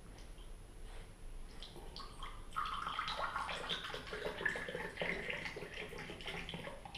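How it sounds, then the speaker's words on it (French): Demineralised water is poured into a small cup, giving a steady close splashing trickle that grows fuller and brighter midway and continues to the end without talk. "je prends mon eau déminéralisée, je la mets dans la tasse"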